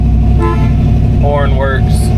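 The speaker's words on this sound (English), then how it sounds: "Horn works." Horn of a 1967 Ford Mustang sounds in a few short honks over a steady, loud engine and road rumble heard from inside the car.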